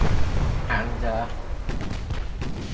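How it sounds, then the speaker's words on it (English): Warship ammunition detonation in the naval battle game Ultimate Admiral, a rumbling blast with heavy low-end roar and scattered cracking booms, a voice speaking briefly over the din. "we've had ammo detonation, which I was expecting"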